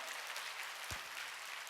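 A church congregation at a Sunday worship service claps, a faint, diffuse wash of many hands heard from a distance with one low thump near the middle.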